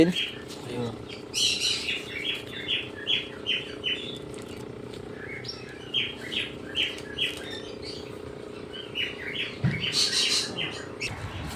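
Small birds chirp and tweet in short repeated bursts over a steady low hum, with faint voices talking in the background.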